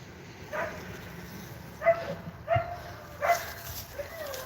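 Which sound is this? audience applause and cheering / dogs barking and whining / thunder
dogs barking and whining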